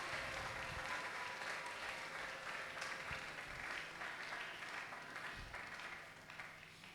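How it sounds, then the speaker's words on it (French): A church congregation applauds at a Sunday service, with dense, continuous clapping filling the room that thins slightly near the end. "Acclamons pour le Seigneur Jésus-Christ."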